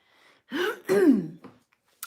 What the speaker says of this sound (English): I keep like clearing my throat